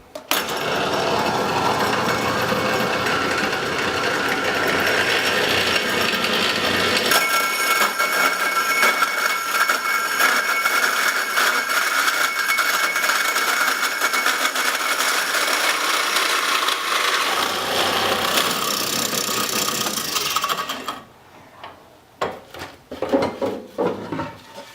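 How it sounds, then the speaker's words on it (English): A power drill bores a 2 3/4 inch hole down through lumber in one loud sustained run of about twenty seconds with a grinding, buzzing whine, then cuts off to scattered clatter. "You're just going to drill down through your product, your lumber, with the drill"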